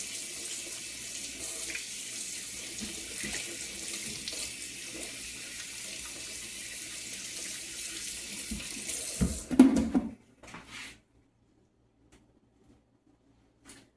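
Kitchen tap runs steadily as hands are rinsed under the water while making puffy Christmas cookies, a continuous hiss for about nine seconds, then a brief splash and the flow shuts off, leaving near silence.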